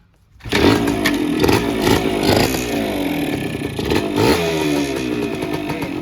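A used two-stroke dirt bike, started cold, catches at once and revs loudly up close with a raspy, buzzing note, climbing and falling in repeated throttle blips.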